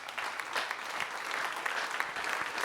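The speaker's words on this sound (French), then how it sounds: "je voudrais vraiment qu'on les applaudisse très fort" An audience in a tent applauds the skippers of the Golden Globe Race sailing event at their official presentation in Les Sables d'Olonne. The clapping is steady, dense and fairly distant, with no break.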